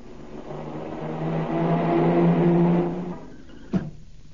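A car engine swells in and passes close by for about three seconds, then a sharp single thump marks the impact as it hits a weasel in a children's road-safety cartoon.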